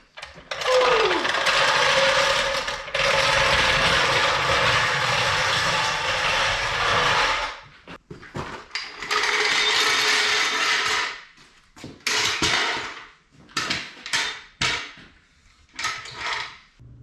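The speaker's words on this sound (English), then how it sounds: "Got to get her jacked up now so that I can get to the bolts that are in the wheel arch liners." Jacking up a V8 Jaguar S-Type R car, with a long loud stretch of ratcheting, grinding mechanical noise followed by shorter broken bursts of clicking and scraping, close by with no talk.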